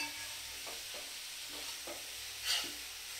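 Chicken pieces frying in oil for chicken biryani being stirred, with a steady soft sizzle underneath and a handful of light scraping stir strokes at a regular rhythm, close and fairly quiet.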